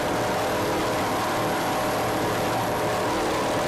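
A loud, steady roar of offshore racing powerboat engines, a dense droning rumble that stays unbroken throughout with no talk.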